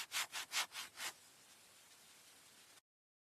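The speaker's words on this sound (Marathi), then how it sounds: "करवतीने लाकडं कापत आहेत" A hand saw cuts wood in a courtyard with five quick, rhythmic rasping strokes up close, then the sawing stops and a soft, steady patter of light rain goes on alone.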